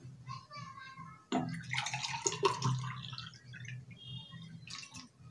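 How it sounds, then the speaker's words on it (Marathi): Water is poured from a glass into a pot for a raw mango drink, a short splashing gush that starts abruptly, swells and then tapers off, with faint background voices around it. "बरोबर 2 ग्लास पाणी मी या पातेल्यात ॲड करणार आहे"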